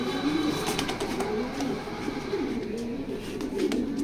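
Pigeons in a loft coo in an unbroken, overlapping low murmur from several nearby birds, with faint rustling and light clicks.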